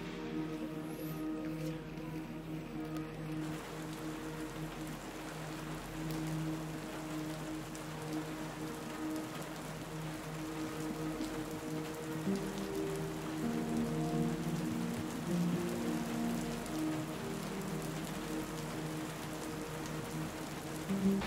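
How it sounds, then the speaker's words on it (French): Rain falls steadily on surfaces outdoors, a continuous dense patter lasting throughout at even volume with no speech. "Comme vous voyez, il pleut."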